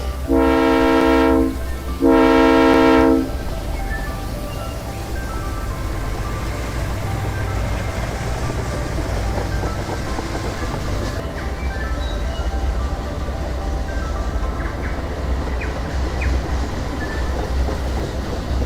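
A train horn sounds two loud blasts, then the CN Continental passenger train rumbles steadily along the tracks for a long stretch, clattering without pause.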